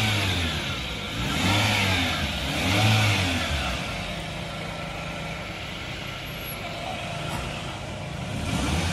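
A Toyota GLi car engine, checked for a gear bearing fault, idles and revs up and down a couple of times, a steady mechanical rumble heard up close with no talking.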